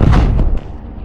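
A loud, close blast of an explosion in a tunnel used by troops: one heavy booming burst that rumbles for about half a second, then drops to a low fading rumble.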